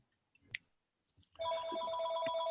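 A telephone rings in an indoor meeting room, a steady electronic ring with clear tones sounding continuously after a few soft bumps and faint background noise.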